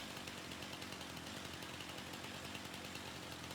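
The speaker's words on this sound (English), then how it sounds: "I know in some of the maps you could cut down fences like this with a chainsaw" A chainsaw runs continuously at a steady, buzzing drone while cutting in Farming Simulator 25, faint and unvarying throughout with no talk.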